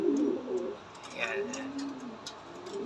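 Pet pigeons coo in low, rolling phrases that repeat throughout, close by, while someone speaks over them.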